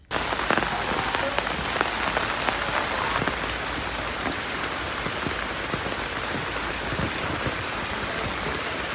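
Steady, dense rain falls on vegetable plants and fruit trees around a house, a constant close patter of drops with no voices.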